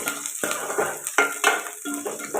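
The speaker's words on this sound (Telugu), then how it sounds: "ఇప్పుడు కట్ చేసి పెట్టుకున్న ఉల్లిపాయలు పచ్చిమిర్చి వేసుకున్నాం ఇప్పుడు ఇవి ఫ్రై చేసుకుంటాం" Chopped onions and green chillies frying in a pan for a drumstick and cauliflower curry, with repeated scraping stirs of a spoon against the pan over a steady background hiss.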